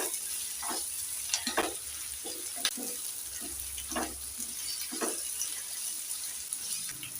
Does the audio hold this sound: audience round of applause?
no